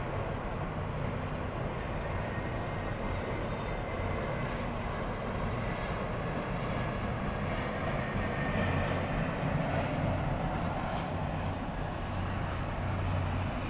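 An airliner in Star Alliance livery on runway 30 at Miami Airport produces a moderate, distant jet rumble with a steady low drone that swells slightly toward the end.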